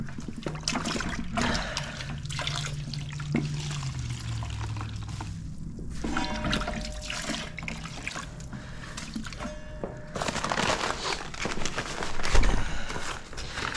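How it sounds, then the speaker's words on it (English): Water is poured and stirred into 20-minute setting joint compound for patching plaster, close sloshing, trickling and scraping sounds that rise and fall in irregular bursts without any talking. "So right now I'm gonna mix me some 20-minute mud."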